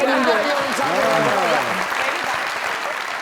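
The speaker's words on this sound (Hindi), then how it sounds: "जरा तालियां" Studio audience applauding on a Pakistani comedy talk show, steady dense clapping throughout with voices talking over it.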